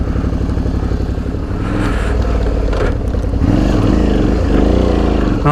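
Suzuki V-Strom DL650 motorcycle idling and revving close by during slow skid spin turns, its engine note rising and wavering in bursts as the rider works the throttle.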